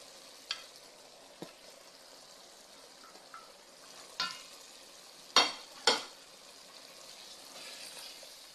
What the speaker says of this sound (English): And then mixing before I add my sausages.